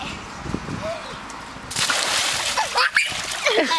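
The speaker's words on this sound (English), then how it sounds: "Give him a big splash again." A big water splash breaks out in a backyard swimming pool, a sudden loud rush of sloshing and splattering that follows a quieter stretch, with children's and adults' voices talking and calling throughout.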